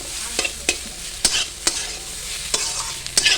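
Green chillies being stirred in a frying pan over a background sizzle, with several sharp scraping strokes of a spatula at irregular intervals, close and clear.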